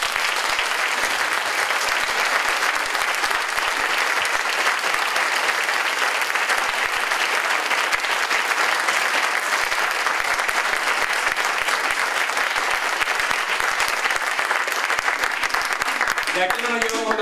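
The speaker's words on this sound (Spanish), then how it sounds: "vamos a darle un fuerte aplauso." Dense, sustained applause fills a hall for a folk dance group from Adeje, a steady roar of many clapping hands that holds evenly for the full length.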